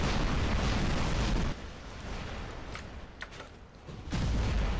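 Robot weapons fire and explosions in War Robots on Android: a dense roaring barrage of blasts, then a thinner stretch of scattered pops and bursts before the heavy rumble returns loud.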